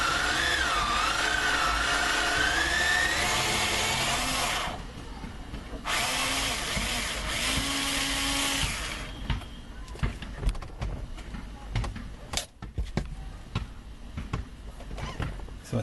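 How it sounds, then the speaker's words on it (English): A small ratchet with an extension works bolts free from the sunroof panel of a GMC Yukon Denali, with a sustained mechanical whirring at first, then a run of sharp, irregular clicks close by, with no talking. "A little small ratchet with an extension on it."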